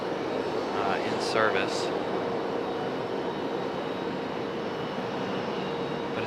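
An Alaska Airlines jet airliner heading to Seattle rumbles steadily with a broad, constant engine roar at an airport, heard from a distance while a person talks briefly over it.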